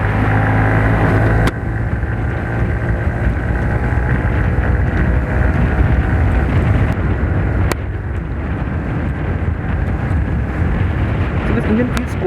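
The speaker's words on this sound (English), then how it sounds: "Engine feels quite smooth, and it doesn't has vibrations in it." A 2020 Honda SP125 motorcycle's smooth, vibration-free 125cc engine hums steadily while riding, mixed with strong wind rush over the microphone, continuous and fairly loud throughout.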